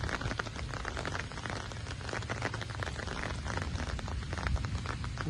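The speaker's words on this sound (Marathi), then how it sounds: "पाऊस लय पडता." Heavy rain falls by a river, a dense steady patter of countless drops hitting surfaces, close and continuous with no voices.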